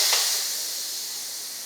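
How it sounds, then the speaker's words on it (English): A steady, loud hiss of steam venting from an Instant Pot pressure cooker cooking chicken, beginning with a sharp burst and continuing evenly, slowly easing off. "letting the steam out"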